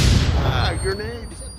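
A flashbang grenade going off in the VR shooter Onward, a loud close burst at the start followed by a ringing tone and a fading rumble.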